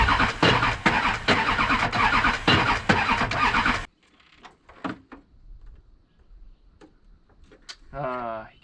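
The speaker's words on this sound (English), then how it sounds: "The starter is cutting out like crazy." A Chevy LBZ Duramax starter cranking loudly in rapid, pulsing bursts for a few seconds, then suddenly cutting out to near silence broken by scattered clicks, with a voice speaking briefly at the end.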